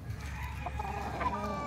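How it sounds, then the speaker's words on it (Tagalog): White Kelso chickens cluck and murmur softly in a busy farmyard, with short overlapping calls against a low background rumble. "Ayun yung puti po natin, white kelso po yan."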